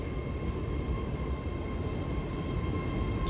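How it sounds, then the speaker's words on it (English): An LNER passenger train arrives at Darlington station, a steady, close rumble of wheels and engine with a faint tonal whine that holds level throughout, with no talk over it. "Next service arriving is a LNER service off to London King's Cross via"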